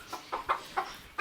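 Chickens in a coop cluck in short, quick bursts, five soft calls in an uneven rhythm, fairly faint and close, with no voices.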